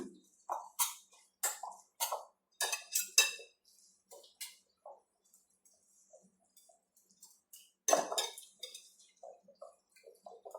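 A spoon beats batter seasoned with pepper powder and salt in a bowl, giving quick, irregular clinking taps in bursts with short pauses between them.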